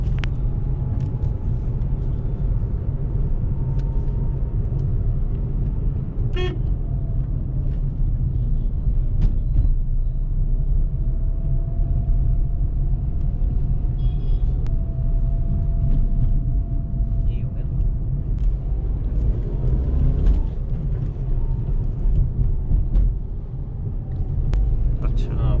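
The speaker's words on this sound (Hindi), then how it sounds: "आप खुद जज कीजिए कि गाड़ी के अंदर कितना साउंड आता है कैबिन के अंदर" A steady low road rumble and engine drone fill a Renault Kiger cabin while driving, loud and continuous, with faint rattles and a passing whine rising and falling over nearly half a minute.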